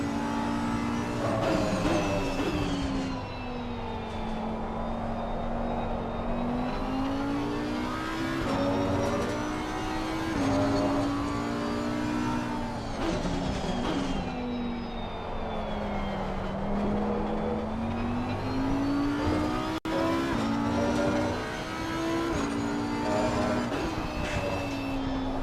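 A GT race car engine in Assetto Corsa Competizione at Valencia climbs and falls through gears in a repeating cycle of revving, droning close and steady for around twenty-five seconds, with no talk.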